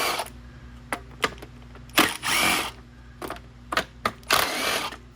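Power tool backing out the top carburetor bolts on a Craftsman M110 mower, with short whirring bursts of varying length separated by pauses, close and fairly loud, plus some handling clatter.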